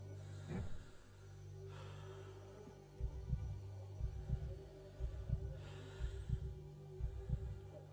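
A steady, regular heartbeat from the video game The Tartarus Key, with deep low thumps repeating in pairs over a constant hum. No one speaks.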